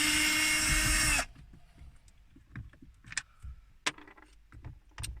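A power tool whirs loudly for about a second while removing screws from a car heater pack under the dashboard, then stops, followed by quieter clicks and handling taps.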